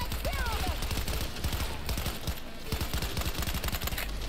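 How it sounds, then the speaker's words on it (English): Rapid gunfire in Cyberpunk 2077 Phantom Liberty: dense bursts of sharp shots crackle continuously over a busy, loud game soundscape. "I'm already not impressed with the shooting"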